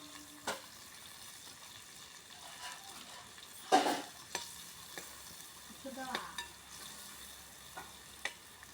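Onions, curry leaves and green chillies frying in a clay pot, heard as a quiet bed of sizzle broken by sparse scraping stirs and one louder clatter partway through.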